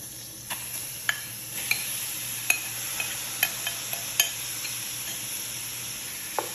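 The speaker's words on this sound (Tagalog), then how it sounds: "ilagay ko na sa fryer yung butter at i-add ko na tong shrimp" Shrimp fry in butter in a pan, a steady close sizzle running throughout, punctuated by scattered sharp pops and crackles.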